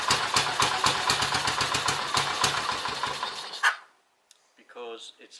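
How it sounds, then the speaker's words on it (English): A 1967 Velocette Thruxton single-cylinder motorcycle engine thumps in a rapid, steady beat, then cuts out abruptly the moment the throttle is released, since it has no tick-over, leaving silence before someone speaks. "the moment you let go of the throttle the engine stops"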